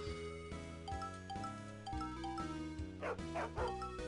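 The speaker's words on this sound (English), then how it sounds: "Oh no, a dog." Short yappy dog barks in the video game Puchi Eva, a few quick cartoonish yips near the end over bouncy, jingly game music.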